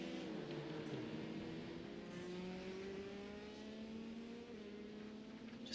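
A race car in the iRacing sim at Le Mans runs off into the gravel, its engine droning steadily with slowly falling pitch, moderately loud and alone.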